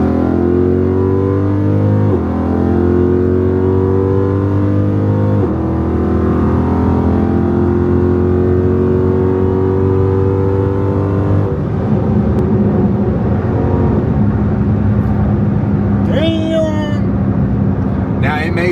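A Dodge Daytona 392 with catless midpipes accelerates hard, its loud engine climbing steadily through the revs, dropping briefly at each gear shift and climbing again, with a person talking over it toward the end.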